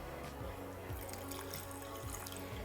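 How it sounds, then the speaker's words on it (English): Water poured into a passion fruit fish sauce dip with garlic and chili, a close, continuous splashing trickle with small drips throughout, no voices. "Now you add the water."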